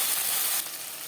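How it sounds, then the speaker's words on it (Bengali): Slit green chillies and a large tomato sizzle loudly in hot oil, a brief, steady, close frying hiss. "10-15 সেকেন্ড ভেজে নেওয়ার পর দিয়ে দেবো 6-7টা চেরা কাঁচা লঙ্কা, একটা বড় সাইজের টমেটো।"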